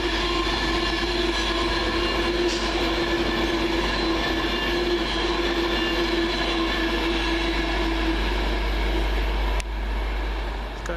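A Virgin express train running from Manchester Piccadilly to London Euston passes through Stone, a sustained loud rushing roar with a steady humming tone throughout, a brief clank near the end.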